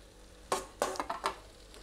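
Egg paniyaram pieces are dropped into a simmering gravy and stirred, giving a few soft wet plops and scrapes in quick succession over a low bubbling sizzle.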